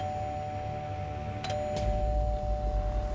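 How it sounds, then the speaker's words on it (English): A doorbell chimes once in a quiet home late at night, a short two-tone ring near the middle over steady low room hum and a faint electrical whine, with no voices. "she hears the doorbell."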